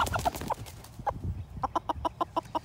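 A meat chicken clucks in short bursts during show judging, first irregular then a quick rhythmic series of close, sharp clucks.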